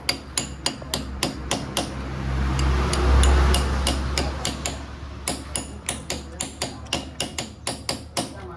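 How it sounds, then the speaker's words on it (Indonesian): Steady hammer taps strike a pipe used to drive in a seal during a Shogun 125 RR engine rebuild, a run of evenly spaced metallic knocks, a pause with low rumble, then another rhythmic series, close and loud. "Sekarang ini tinggal pukul palu sup."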